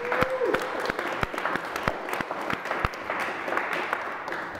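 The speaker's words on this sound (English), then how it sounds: "I just want to clap for the audience" A live audience at a talk-show taping breaks into steady applause, dense overlapping claps with sharper individual hand claps popping out near the microphone, continuing throughout.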